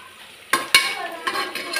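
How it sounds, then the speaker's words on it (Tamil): Ingredients for mushroom masala gravy sauté in a pan, with a faint sizzle under a few sharp stirring scrapes and clinks of a spoon, close and brief. "நல்லா வதங்கட்டும்."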